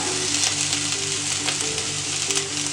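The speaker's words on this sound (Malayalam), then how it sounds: "ഇതിപ്പം സവാള നന്നായിട്ടൊന്ന് വഴന്നിട്ടുണ്ട്" Onions sautéing in a pan for scrambled egg curry, giving a dense, steady close-up sizzle that runs unbroken throughout, with faint stirring and no voices.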